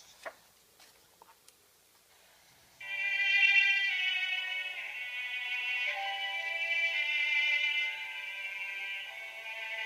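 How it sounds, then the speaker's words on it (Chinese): A celesta plays bright, bell-like tones that ring out in a sustained, shimmering run from about three seconds in, after a few faint clicks at the start. "是钢片琴。"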